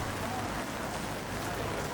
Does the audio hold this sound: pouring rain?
yes